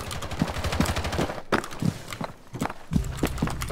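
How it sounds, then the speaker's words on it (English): Rapid bursts of gunfire from the tactical shooter game Rainbow Six Siege, loud and close, firing in quick repeated volleys with brief pauses between them. "Okay, I'm shooting him in the head."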